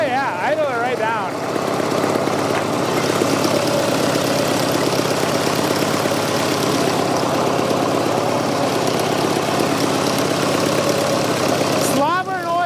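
Diesel engine of a Fordson Super Major backhoe idling with a steady, rough mechanical drone throughout, with people talking over it near the start and end.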